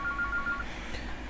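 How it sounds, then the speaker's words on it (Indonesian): A mobile phone rings with an incoming call during an online networking class on building a video streaming server, a short repeating electronic tone pattern in the first half over steady room hum, then fading into background noise. "istri gua nelpon lagi"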